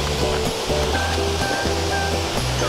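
Waterfall at Kiyohata Forty-Eight Falls in Oku-Kawachi, a steady loud rush of falling water filling the scene without pause, no voices.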